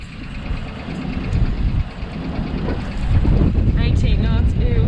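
Steady, loud rush of strong wind buffeting the microphone on a sailboat at anchor in Jason's Bay, with a low rumble underneath and faint creaking and whistling toward the end.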